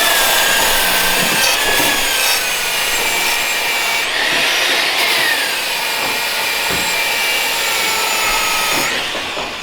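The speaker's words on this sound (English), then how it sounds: "It's polishing the seam sealer." Power tool polishing seam sealer off a racecar body under construction, a loud continuous abrasive whirring grind that holds steady with brief changes in pitch as the tool moves over the panel.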